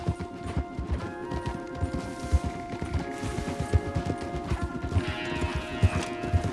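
Horses gallop in Red Dead Redemption 2, a dense, steady drumming of hooves close by that runs through the whole stretch with no talk over it.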